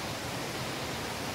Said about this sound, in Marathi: खतरनाक हा धबधबा आहे निसर्गाचा